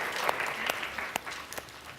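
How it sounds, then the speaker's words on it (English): A gentle round of applause rises from a lecture-hall audience, a steady soft wash of many hands with a few sharper claps standing out near the front. "Another gentle round of applause."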